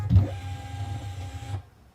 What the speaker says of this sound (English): we're gonna hit print now